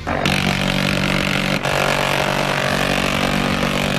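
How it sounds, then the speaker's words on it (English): A continuous, loud, buzzing roar of a minigun firing, like a chainsaw, with a brief break partway through. "The minigun, when it's fired, it doesn't even sound like a gun. It sounds like a chainsaw."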